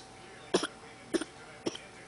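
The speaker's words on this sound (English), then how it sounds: "Cover your mouth if you're gonna cough." A young girl coughs three times into her hand, short quiet muffled bursts spaced about half a second apart, close by in a calm room.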